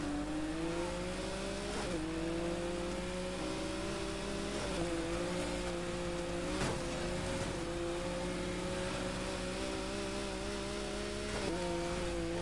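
Race car engines rev hard in Need for Speed Heat during an underground street race, a loud sustained droning whine that climbs steadily with brief dips at gear shifts.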